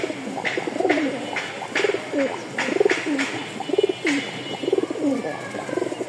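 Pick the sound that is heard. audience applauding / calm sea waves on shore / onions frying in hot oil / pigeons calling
pigeons calling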